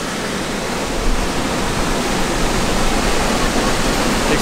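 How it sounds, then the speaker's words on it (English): Strong wind roars steadily across an outdoor theme park in Santa Claus, Indiana, a dense broadband rush with gusty swells that stays loud and close throughout, with no talk over it. "Extremely windy in here."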